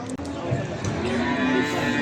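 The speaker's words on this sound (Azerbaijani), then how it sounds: "bax belə 2 dənə balaca dişi dana var" At a livestock market in Beyləqan, a young female calf gives one drawn-out, close, fairly loud moo that fills the moment with no talk over it.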